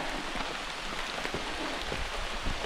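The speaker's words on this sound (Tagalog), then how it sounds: "So ngayon habang naglalakad kami, ito tumutuloy yung ulan," Steady rain falling during a mountain hike on Mt. Marami in Maragondon, Cavite, a soft continuous patter of drops on surfaces, even and moderately close, with no talk.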